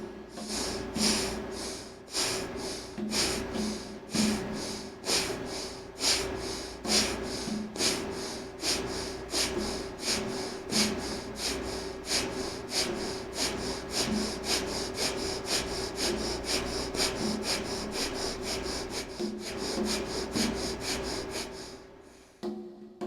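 Forceful Bhastrika yoga bellows breathing, a long run of rapid, rhythmic nasal inhales and exhales at a steady fast pace, close and loud, with no talking.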